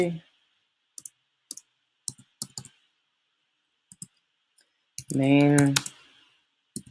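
Clicks on a computer keyboard, typed in short irregular bursts, close and clear against a quiet background, with a brief voice partway through.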